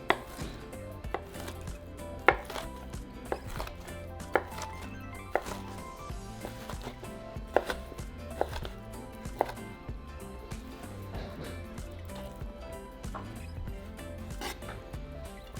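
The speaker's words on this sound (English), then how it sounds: "flip it over and cut your little cubes" A knife chops ham into small cubes on a cutting board, a steady run of sharp, close taps with a few harder knocks, over quiet background music.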